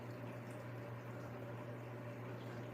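Water from an aquarium filter pours and bubbles steadily into a fish tank, a constant close rushing wash with a low hum beneath and no breaks.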